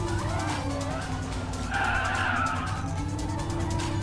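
A Porsche Taycan electric car races in a realistic racing video game, a steady synthetic motor whine with tire skidding and a rising surge midway, loud and continuous with no talk.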